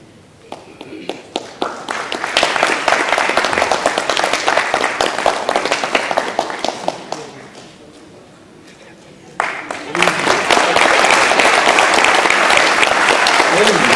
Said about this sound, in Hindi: आपकी तालियों का समर्थन इस नाटक के सफल होने की गवाही दे रहा है।